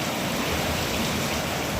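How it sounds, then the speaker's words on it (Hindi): Heavy rain pours over a Pakistani village as a dense, steady hiss, close and constant with no voices. "ये बारिश हो रही है सर बहुत ज़्यादा।"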